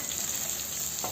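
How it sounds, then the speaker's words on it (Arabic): Butter being stirred into melted golden sugar in a pan, a steady close sizzle with soft scraping throughout, with one brief brighter stir near the end. "نضيف الزبد ونحرك باستمرار لأن راح يتكتل عندنا"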